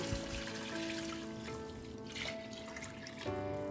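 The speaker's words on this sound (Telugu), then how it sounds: "ఇప్పుడు ఇందులో వాటర్ని యాడ్ చేసుకున్నాము" Water streams and trickles into a cooking pot holding basmati rice, its pitch shifting as the vessel fills, steady and close with no speech.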